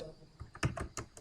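Keys tapped on a computer keyboard, a short quiet burst of a few uneven clicks heard up close, with no voices.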